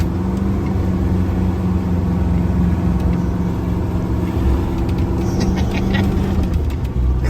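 A 1986 GMC Astro cab-over truck's diesel engine drones loud and steady from inside the cab while driving, with a low rumbling hum and faint rattles near the end.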